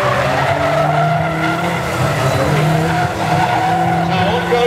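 Tyres squeal and skid continuously as an engine revs hard while two cars are driven at once, a loud sustained screech with a rising and falling motor note.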